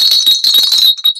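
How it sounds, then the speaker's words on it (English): A very large jingle bell rings in a quick run of bright, shimmering jangles, loud and close, with a short pause near the end before a few final shakes. "I got the world's largest, most obnoxious jingle bell."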